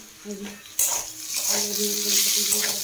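Vegetables and fish frying in a home kitchen in the morning, a loud steady sizzle breaking out suddenly partway through and holding with clatter of a utensil, after a quieter stretch with a voice speaking.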